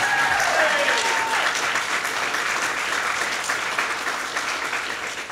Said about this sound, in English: Let's hear a round of applause for state government officials.